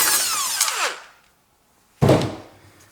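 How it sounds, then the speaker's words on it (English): A power tool fitted with a 13mm socket whirs in two short bursts as it loosens bolts on the heavy steel frame of a washing machine. The first burst runs about a second and the second comes after a brief pause. "I need now 13mm socket that I open two of these bolts"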